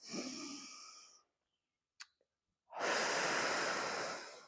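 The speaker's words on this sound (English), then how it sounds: "On the inhale is where you are breathing in and it's on, but your ribs are not expanding." Diaphragmatic breathing while bracing: a long exhale, a pause with a small sniff, then a deep, steady inhale, all close to the microphone with no talking.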